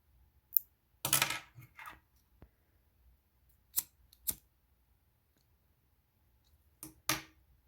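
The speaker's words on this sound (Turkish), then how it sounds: "bobindeki ipimi de kesiyorum burada" Scissors snip thread from a sewing machine bobbin in a few sharp, isolated clicks and short cutting sounds separated by near silence, close and fairly faint.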